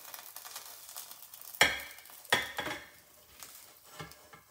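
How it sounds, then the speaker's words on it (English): A fried potato pancake slides from a frying pan onto a plate, with soft oil sizzle and a few sharp scraping clanks of metal pan against plate. "I need to slide my giant potato pancake off the pan and onto a"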